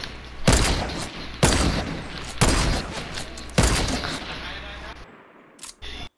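Four heavy, booming gunshots ring out in a Fortnite 1v1 match, spaced about a second apart, each loud with a long decaying tail, followed by a brief quiet stretch and a few small clicks.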